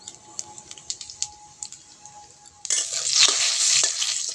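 Whole cumin seeds hit hot oil in a wok. After a couple of seconds of faint scattered ticks, a loud, dense sizzle bursts in and carries on close by, with no voices.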